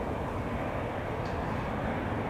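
A Lufthansa Airbus A320 bound for Munich departs Amsterdam Schiphol, its engines a loud, steady, broadband roar that holds evenly throughout without any voices.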